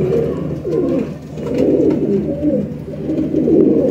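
Pigeons cooing close by in a loft of high-flyer crossbred birds, soft repeated rolling coos running continuously across the few seconds.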